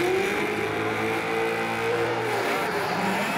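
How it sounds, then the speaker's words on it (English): Nissan S15 drift car, the Speedway Falcon, launching hard off the start line at a New Zealand drift competition, its engine roaring loud and close with rising revs that hold steady for several seconds. "And a huge launch off the line for Carl Thompson."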